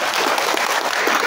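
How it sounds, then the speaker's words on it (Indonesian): An audience claps at a school competition for junior and elementary students in Kupang, dense steady applause filling the whole moment, loud and close with no voices. "Kita kasih aplaus."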